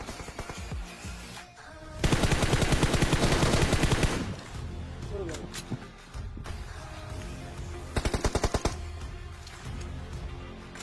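M416 rifle gunfire in a PUBG-style shooter game: two long, loud bursts of rapid automatic fire with quieter distant shots and game sounds between them.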